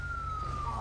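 A police car siren from the GTA V LSPDFR police mod wails as one long, steady tone that slides slowly downward, carried over a low engine rumble at moderate, constant loudness.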